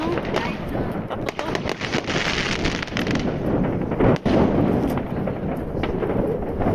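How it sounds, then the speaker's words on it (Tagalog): Repeated sharp pops and bangs of New Year's Eve firecrackers in Germany crackle continuously in the open air, with people talking and shouting over the noise. "May ano sila dyan? Parang paputok."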